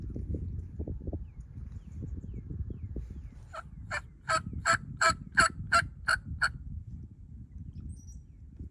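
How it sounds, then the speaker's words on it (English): A wild turkey gobbles once in the open, a rapid rattling burst of about eight notes that is clear but moderately distant. It is heard against low rumbling field noise. "I'm gonna check out this gobble over here."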